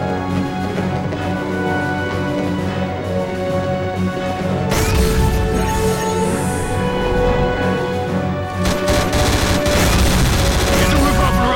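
A city overloading and about to explode in a sci-fi series, heard as a dense, loud roar of rumbling booms and crashing bursts that builds sharply about halfway through and stays intense.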